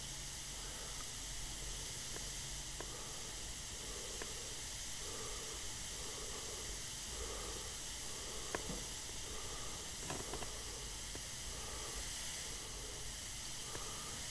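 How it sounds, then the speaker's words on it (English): An airbrush sprays paint in fine micro detail work, giving a steady faint hiss throughout that is broken by a few small clicks. "we'll have to clean off the tip of our airbrush periodically so we can get a crisp line"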